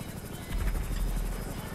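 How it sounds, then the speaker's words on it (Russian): A helicopter in a video game losing thrust, its rotor giving a steady pulsing whir that grows louder and thicker halfway through and stays loud to the end. No one speaks. "вертолет тягу теряет"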